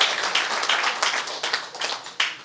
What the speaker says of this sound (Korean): 박수 좀 받으십시오.